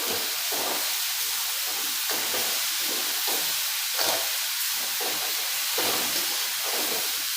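Banana flower curry with turmeric being stirred in a pan: a steady loud sizzle and hiss runs throughout, with soft repeated scraping strokes of the spoon underneath and no talking.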